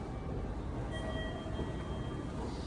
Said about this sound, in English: So here's another train.